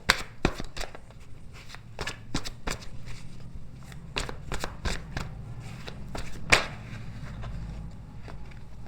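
Playing cards are shuffled by hand during a game: a quiet, close series of sharp riffles and flicks in an uneven rhythm, with one louder snap near the end.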